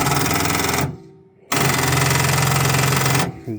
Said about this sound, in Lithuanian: laikas bandyti užsikurti traktorių, bet bijau, kad bus akumuliatorius nusėdęs